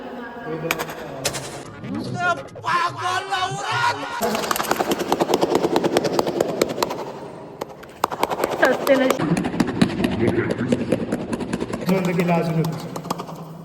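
A person imitates an airplane and helicopter in flight with the mouth, making rapid, rattling chopping and buzzing vocal noises in bursts. The imitation is close and loud, with other voices and laughter mixed in among cousins playing.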